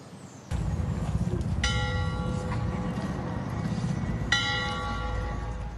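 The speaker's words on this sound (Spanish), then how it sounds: "El sonido de las campanas de la iglesia en Banegas, Lebrija, anunció el adiós para Antonio Libreros" Two widely spaced strikes of a church bell in Banegas, Lebrija, ring out, each leaving a lingering metallic hum over a low rumble of traffic.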